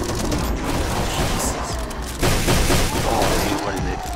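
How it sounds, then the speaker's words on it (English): A grenade blows up in the game 10 Miles To Safety, heard as a loud burst that surges midway through a dense, continuous barrage of rumbling gunfire and noise. "I threw a grenade, but the grenade went off on me."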